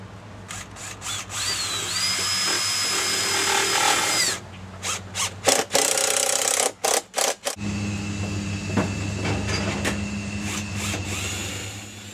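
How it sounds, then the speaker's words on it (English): A power drill drives weather-resistant, high-shear deck screws through a solar thermal racking frame mounted against a house, whining loudly in sustained runs broken by short bursts and pauses, with the motor pitch rising as each screw seats. "We've attached the racking system with weather-resistant and high shear strength deck screws."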